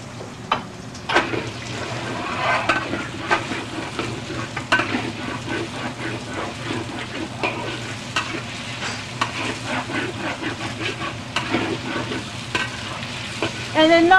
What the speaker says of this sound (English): now you see the scraping here is because the shrimp, when we marinate the shrimp, we put a little bit too much egg whites and the cornstarch.